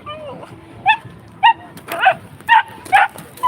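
A young dog at an outdoor street march gives a run of about six sharp, high yips and barks in a quick uneven rhythm, close and loud over crowd murmur and people talking.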